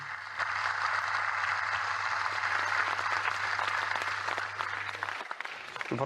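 A crowd claps steadily for several seconds, a dense wash of hand claps over a low hum that fades slightly at the end.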